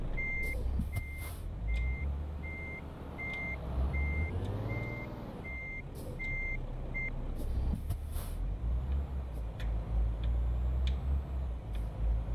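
A truck reverses in the Euro Truck Simulator 2 video game. A steady series of reversing beeps sounds over the low drone of the engine, then stops, followed by air-brake hisses and rumbling.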